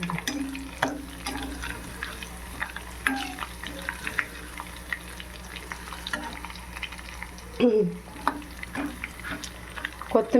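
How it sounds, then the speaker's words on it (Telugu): Tempering ingredients frying in a pan for a Rayalaseema-style dish, a steady crackling sizzle with occasional stirring scrapes and clatters, close and continuous. "ఇవి తిరగబాటులో వేసేసాను. ఓకేనా, అది వేగుతుంది."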